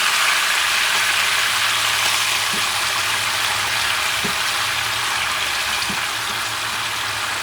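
Lemon slices and chicken cook over medium heat in a pan, giving a steady, even hiss of sizzling with a few faint clicks. The sound is loud and close and carries no talk.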